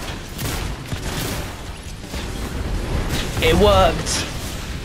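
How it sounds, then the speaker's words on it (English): A large explosion in the video game Fortnite rumbles loudly under excited talk and game noise, swelling into a heavier blast near the end. "That's a big fucking explosion."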